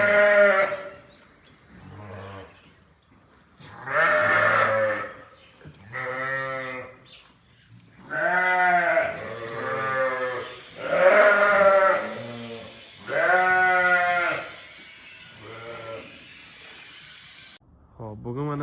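Sheep bleating at a farm, a series of loud, close, drawn-out bleats with short pauses between them, repeating across the whole stretch.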